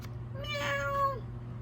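A cat gives a single clear, drawn-out meow, close and alone, rising and then trailing off.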